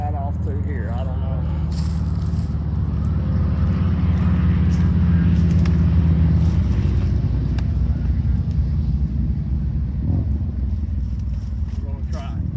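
A ported Husqvarna 562XP chainsaw cuts into a dead cherry tree, running at a loud, steady, close-up engine whine with slight bogging under load, continuous for the whole stretch.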